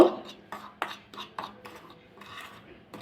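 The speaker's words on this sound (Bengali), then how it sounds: "চালের গুঁড়ো দিয়ে ময়দা দিয়ে লবণ দিয়ে ভালো করে একটু মিশিয়ে নেব" A utensil clinks and scrapes in a bowl while flour, rice flour and salt are mixed, giving several uneven close taps and rustles at moderate volume.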